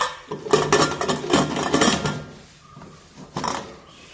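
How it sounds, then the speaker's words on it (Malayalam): A pressure cooker being stirred and its lid fitted shut at home, with a cluster of clattering metal knocks and scrapes close by, a pause, then a final clunk. "ഇളക്കി കുക്കറൊന്ന് അടച്ചു കൊടുക്കാം"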